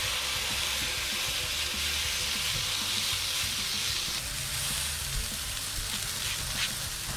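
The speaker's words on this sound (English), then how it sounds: "Before I put the sausage on the griddle, I'm going to put just a little bit of oil down" Sausage sizzles on a Blackstone griddle in a continuous soft hiss and crackle, fairly quiet and steady, with a few faint scrapes and clicks and no talking.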